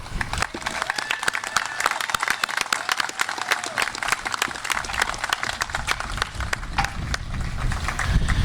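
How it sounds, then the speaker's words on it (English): Applause from the crowd at an outdoor Memorial Day service, dense and steady clapping that keeps up for several seconds with some background noise beneath it. "Please offer a round of applause for this dedicated and patriotic group"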